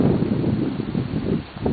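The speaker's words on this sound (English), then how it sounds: "it's a little windy out here at the moment" Wind blowing outdoors, heard as a steady low rumbling buffet across the microphone that swells and dips slightly, with no talking.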